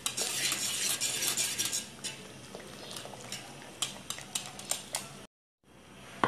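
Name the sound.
whisking flan mixture to avoid lumps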